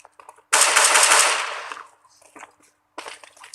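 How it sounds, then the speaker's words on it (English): A burst of rapid gunfire in Counter-Strike: Global Offensive erupts and fades, followed by scattered shots and clicks, with another short volley at the end, during a live esports match. "Daps is hearing all of this gunfire coming his way."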